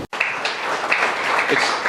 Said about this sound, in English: it's very kind of you to clap